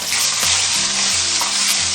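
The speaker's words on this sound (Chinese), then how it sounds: "我们下入黄花鱼，然后保持大火煎。" Yellow croaker frying over high heat in hot oil in a preheated iron wok, a loud, continuous sizzle close up with low rumbling underneath, no voices.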